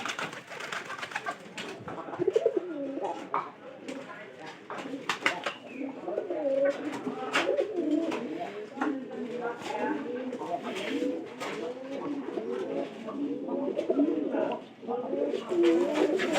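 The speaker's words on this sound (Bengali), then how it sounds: "আমার এই যে এই কবুতর কিন্তু হালি কবুতর" Pigeons coo repeatedly, soft rolling calls overlapping close by at a moderate level, with rustling and wing or foot movement between them and no talk.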